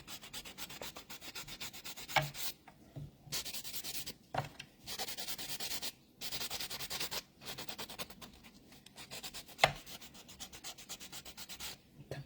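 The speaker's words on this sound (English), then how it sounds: "just go in with that buffing block and get any of these little bits and pieces that are left on the nail" A buffing block rubs across a fingernail to remove leftover dip powder, producing close, soft rasping strokes in bursts separated by brief pauses. No voices are heard.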